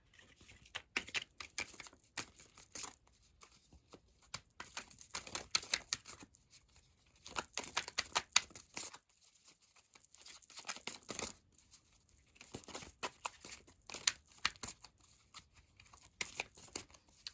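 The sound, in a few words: tarot cards being drawn and handled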